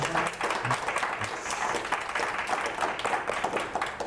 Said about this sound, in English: So, round of applause for Romeo